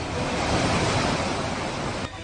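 The swollen Rangeet river surges after continuous rain, a loud, steady roar of rushing floodwater with no break that drops away abruptly near the end.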